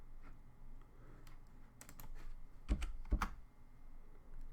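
Someone types on a computer keyboard with soft, sparse keystrokes. A few clicks land close together, followed by two sharper taps near the end, all quiet and close with no voice.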